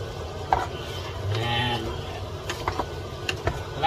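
Pansit noodles are stirred and tossed in a pan, with soft scraping and clattering under a low sizzle and scattered sharp utensil taps, close and moderately loud.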